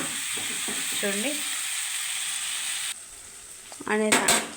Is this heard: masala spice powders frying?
yes